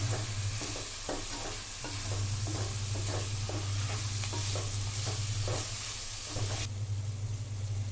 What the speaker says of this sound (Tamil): இந்த மசாலாலாம் வந்து சிக்கனில் நல்லா பிடிக்கிற மாதிரி நல்லா 2 மினிட்ஸ் நல்லா ஃப்ரை பண்ணிக்கலாம்